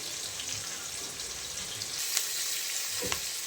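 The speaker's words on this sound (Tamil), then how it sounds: "அது நல்லா பொன்னிறமாக வதக்கணும்." Sliced onions, about 200 grams, fry in oil until golden for a half-kilo chicken biryani, giving a steady, close crackling sizzle with a few brief louder pops and no voices.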